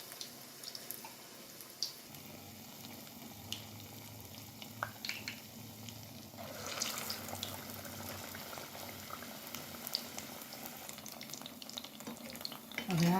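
Vada dropped into hot oil sizzle and bubble steadily, the frying growing fuller and louder partway through, with a few light clinks of a utensil near the end.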